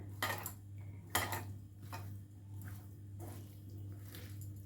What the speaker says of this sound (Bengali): স্বাদটা ঢুকে যায় খুব ভালো করে মাখিয়ে নিচ্ছি